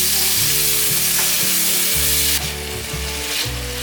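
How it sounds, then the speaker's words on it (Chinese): Tomatoes stir-fried in a wok with minced ginger: loud, steady sizzling with scraping stir strokes, close up and alone with no voices. "把番茄炒软，炒出有番茄的汤汁跑出来。"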